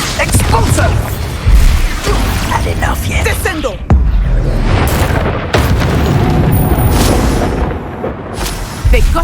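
Confringo explosive spells blast during Hogwarts Legacy combat, with several loud booms rising from continuous battle noise while voices speak throughout.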